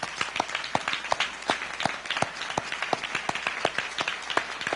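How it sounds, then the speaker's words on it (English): A round of applause for a police chief and his executive team at a swearing-in ceremony, steady clapping with distinct individual claps audible throughout, moderately quiet and continuous. "please stand and let's give them a round of applause"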